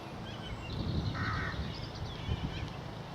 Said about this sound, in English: Noise in the background is crows versus buzzards,